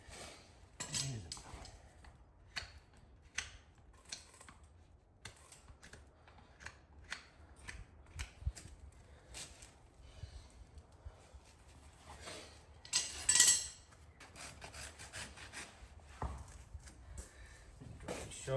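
Sharp metallic clips and snips ring out irregularly as a hoof with a small quarter crack is trimmed on a young horse, interspersed with quiet shuffling and a louder scrape cluster near the end.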